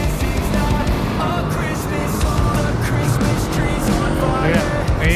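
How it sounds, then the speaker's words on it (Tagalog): Car passing close on a road during a bike ride in Imus and Kawit, Cavite, with a loud continuous rumble of engine and tires over road noise. "may sasakyan"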